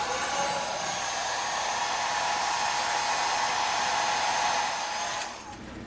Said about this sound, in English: Maybe I'll put the heat gun on it, try and evaporate that solvent before it melts the plastic.